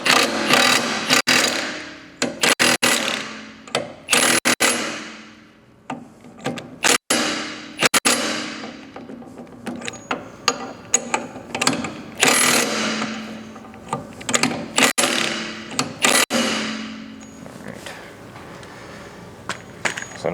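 Metal tool work on a boat outdrive prop shaft castle nut being tightened outdoors, with repeated sharp clanks and ratcheting bursts in irregular clusters, fairly close and loud, with short pauses between.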